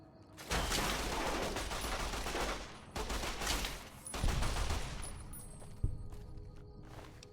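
Sustained automatic weapon fire from Fallout New Vegas, a dense roaring fusillade in several long bursts broken by brief pauses, loud and close, with a sharp single report near the end.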